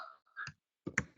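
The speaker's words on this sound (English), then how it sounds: "I'm testing my typing speed" Typing on a computer keyboard comes through as a few scattered clicks and clatters in short bursts separated by silent gaps, close and moderately loud.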